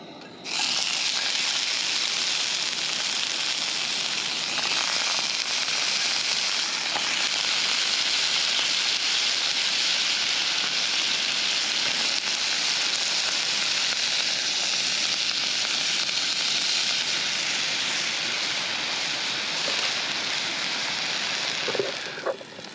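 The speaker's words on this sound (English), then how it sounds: "So let's put the chestnuts in the pan." Chestnuts sizzling steadily in a hot cast iron pan outdoors in a canyon among sycamores, a dense, even hiss lasting throughout with little variation, no talking.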